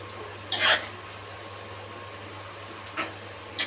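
Noodles are stirred and mixed in a pan, producing a few brief scraping clatters at irregular intervals over a low, steady background hum, with quiet gaps between and no talking.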